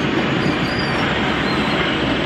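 A Class 37 diesel locomotive hauling a short train rumbles past a station close by in a steady, loud roar of wheels and engine, with faint metallic squeals riding on top.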